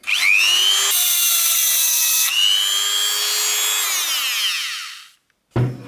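A steel screwdriver shank is cut against the rotating cutter of a knife sharpener, giving a loud, continuous high grinding whine with a shifting pitch for about five seconds, then a brief stop and a short burst of noise.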